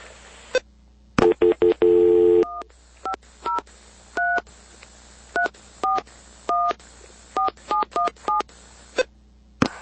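Telephone keypad tones dial out a number while calling back a Verizon cell phone, a brief burst of rapid tones followed by a steady run of short, clear beeps, each a distinct two-tone pitch pair, loud and close with no talking.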